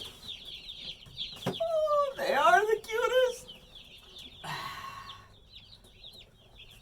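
Young turkeys being set out on a farm give bursts of high, thin peeping chirps, close by and intermittent, while someone speaks over them.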